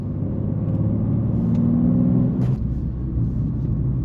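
A BMW M2 G87 drives along a road in the Balkans at dusk, its engine giving a steady, loud low rumble with a brief rise in revs as it overtakes, with no talk over it.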